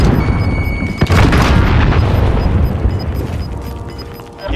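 A loud grenade explosion in a military shooter video game: a sharp blast followed by a long, rumbling, noisy roar that slowly fades, heard close and dominating the mix.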